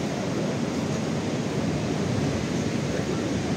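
Wind buffets the microphone on a beach, a constant loud rumbling roar with no breaks, covering the whole span alone.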